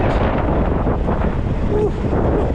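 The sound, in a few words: wind blowing outdoors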